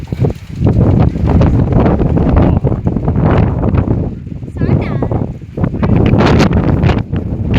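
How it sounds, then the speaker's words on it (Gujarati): Strong gusty wind of an approaching storm roars and buffets the microphone in loud surges, with a voice partly buried beneath it. "ધૂળની ડમરીઓ જો ધૂળ ઉડે એ જો વાવાઝોડું હવે આવતું જાય છે"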